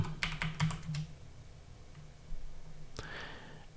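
Typing on a computer keyboard at a PC: a quick burst of clicking keystrokes, then a pause with quiet background, then one more key press near the end, close and without talk.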